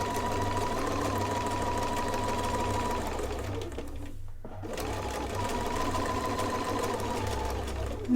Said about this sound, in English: I'm going to top stitch what we just did